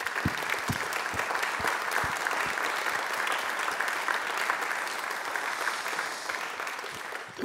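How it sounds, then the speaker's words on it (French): A studio audience applauds a guest on a regional TV show with a steady wash of clapping, some individual claps standing out, holding for several seconds and easing off toward the end. "Je vous demande de l'applaudir et de l'accueillir."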